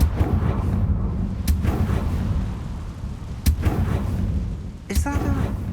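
Sharp spell blasts from the Confringo curse in Hogwarts Legacy crack out at intervals, one near the start, another midway and a final burst with a ringing tail, over a dense rumbling game backdrop with some faint voices.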